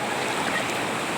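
San Isidro Falls roars as a steady, broadband wash of falling water, loud and continuous, with no voices heard.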